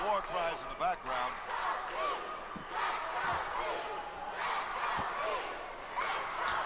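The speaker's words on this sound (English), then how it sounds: "The crowd chanting, "Let's go, Chief."" A wrestling crowd at an NWF event chants "Let's go, Chief" with rhythmic, rising and falling voices and scattered war cries, filling the arena under a steady roar.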